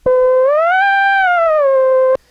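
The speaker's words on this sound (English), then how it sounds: "It's a sawtooth waveform that you can play by moving your finger along the ribbon." A bright, buzzy sawtooth tone from a Korg monotron analog ribbon synthesizer, rich in harmonics, played alone, gliding smoothly up in pitch and then sliding back down over about two seconds.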